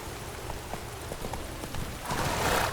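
Roach the horse gallops in The Witcher 3, a steady clip-clop of hooves under game ambience, growing louder and busier toward the end.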